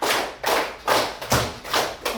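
Students in a classroom clap together in steady unison bursts, four or five loud, close, evenly timed group claps with no talk over them.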